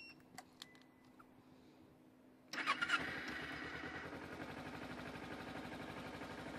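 A carbureted 2010 Kawasaki Ninja 250R cranks over with a few faint clicks, then fires up and settles into a steady, close, buzzing idle.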